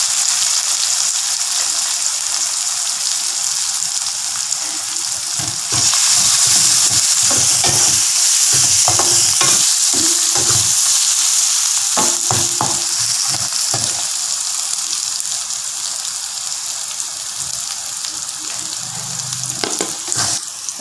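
Ginger, garlic and turmeric fry in a pan for a stir-fried cauliflower dish, giving a steady loud sizzle with bursts of stirring and scraping throughout.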